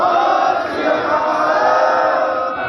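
A large crowd at the Bidhipur protest site, marking Independence Day as a Black Day, roars back the Sikh jaikara response in one loud, sustained collective shout that fills the space.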